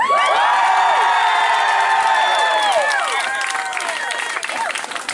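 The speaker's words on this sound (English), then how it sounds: "you should cheer now" A Renaissance Faire audience at a Julius Caesar Shakespeare stage show erupts in loud cheering, whoops and shouts from many voices, sustained for a few seconds before tapering off.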